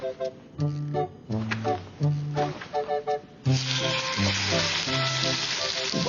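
Steak cooking over a campfire outdoors, a steady hiss of sizzling fat that swells louder midway and continues under intermittent bursts of tonal background music.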